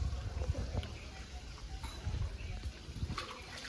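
Temple water runs at a Mahalakshmi shrine where visitors wash hands and feet, a soft continuous splashing and trickle with faint muffled movement nearby.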